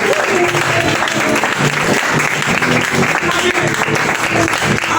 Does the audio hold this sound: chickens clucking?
no